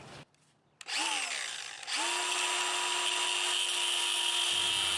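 A power tool cuts the warped threaded end off the front strut of a 2008 Volvo S60 T5, a brief spin-up then a sustained loud whine grinding through metal, close and continuous.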